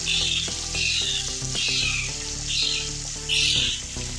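Chicken frying in hot oil in a karahi as onions go in, a steady close sizzle and crackle with swells of louder spitting, heard under background music.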